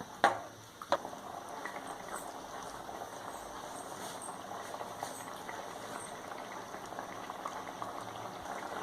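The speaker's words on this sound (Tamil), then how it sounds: "இப்போ கிரேவி நல்லா கொதிக்குது." Mattar paneer gravy bubbles and simmers steadily in a pan, a continuous close burbling hiss, with a couple of sharp clinks near the start.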